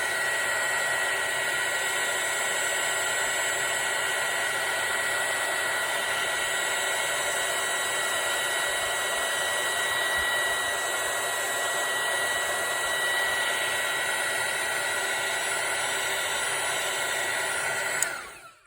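A handheld heat tool blows a steady, loud, high-pitched whir as it melts glitter embossing powder on vellum, running continuously and alone before cutting off near the end.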